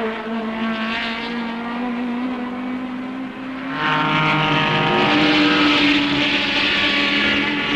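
Saloon racing cars roar past at a 1968 British Saloon Car Championship race, among them a Group 2 Ford Cortina, engines droning steadily and then swelling louder as another car closes in.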